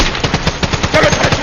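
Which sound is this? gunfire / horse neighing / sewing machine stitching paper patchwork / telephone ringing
gunfire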